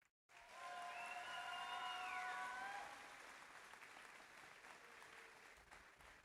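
Audience applause fills a robotics competition arena at a FIRST district event, loud sustained clapping after a short silent start, with whistling tones over it that then ease into steadier, softer clapping and crowd noise.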